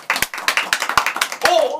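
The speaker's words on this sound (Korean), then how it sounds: "아주 좋아서 박수." Several sharp, close hand claps sound in an uneven rhythm during a lively streamed group session, mixed with people talking and exclaiming.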